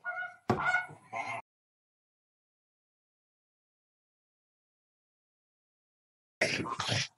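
Flamingos in a wetland call during their courtship display: a short burst of nasal, goose-like honking, a long silence, then another dense honking burst near the end.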